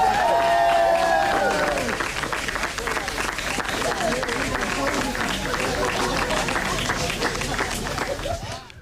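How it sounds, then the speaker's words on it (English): A golf gallery claps and murmurs in steady applause after President Clinton hits the ball twice, a dense, continuous crowd reaction at moderate distance with voices mixed in. "you can hear the crowd reacting to President Clinton hitting the golf ball twice"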